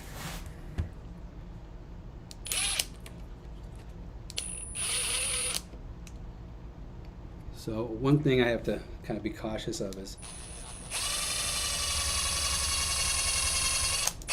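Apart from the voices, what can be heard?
power drill drilling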